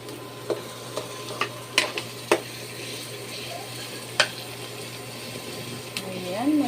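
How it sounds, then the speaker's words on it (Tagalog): Vegetables being sautéed in a pan, with a few sharp clanks of a spatula stirring against the pan over a low background hum, and a soft sizzle rising near the end. "Magigisa na natin."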